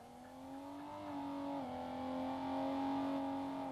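Racing car engine in the video game Sleeping Dogs, a steady nasal buzzing drone that shifts pitch slightly and swells louder over a few seconds, heard alone without speech.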